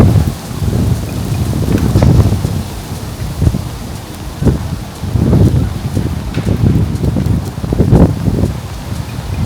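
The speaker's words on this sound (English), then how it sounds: "Right now it's starting to get really windy" Strong outdoor wind buffets the microphone in downtown San Antonio, Texas, a loud rumbling roar that surges in repeated gusts with brief lulls between them.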